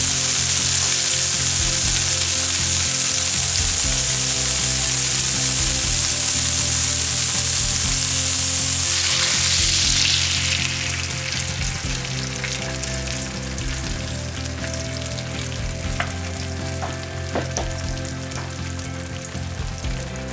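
A ladle of oobleck pancake batter hits a hot pan and sizzles loudly and steadily. After about ten seconds the hiss settles into a softer, even crackle with scattered pops.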